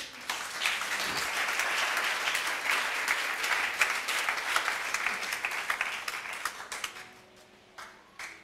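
A church congregation applauds and claps for the Lord during a sermon on prayer, a dense, sustained burst of clapping that thins into scattered claps and fades near the end, with no talking over it.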